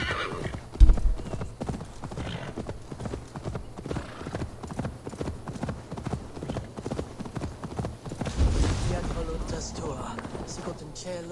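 A horse in Assassin's Creed Valhalla trots with a steady clip-clop of hooves and gives a sharp neigh near the start, with a louder whinny or snort later, as a voice speaks over the movement.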